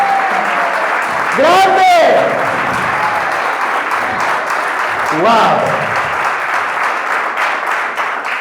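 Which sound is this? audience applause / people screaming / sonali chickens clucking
audience applause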